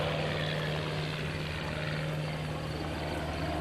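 The one-of-a-kind Midwing Special propeller aircraft drones steadily overhead during airshow hesitation rolls, a continuous even engine hum at moderate distance with no voices.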